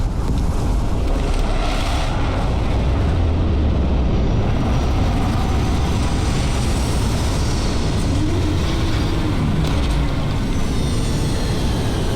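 A spaceship touching down in the game Starfield, a loud, steady roar of engine rumble and rushing wind that stays dense and unbroken throughout, with no voices.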